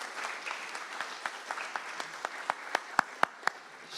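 Applause from an audience at a gathering on enslavement history thins out into a few individual claps falling into a slow, evenly spaced rhythm that grows more prominent as the crowd fades.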